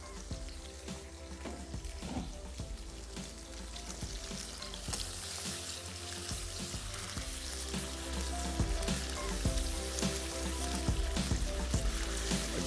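Fairly large chicken pieces sizzle and fry steadily in a pan, with a constant loud crackle broken by frequent scrapes and clinks of stirring, and no talking.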